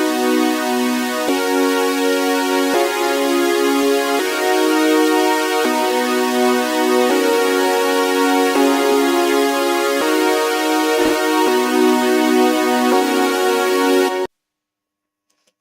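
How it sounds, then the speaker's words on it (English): Short, punchy synth chords from a Eurobeat track, repeating in a steady rhythmic pattern at high loudness for about fourteen seconds before cutting off abruptly to silence. "Just simple short synths might do the job"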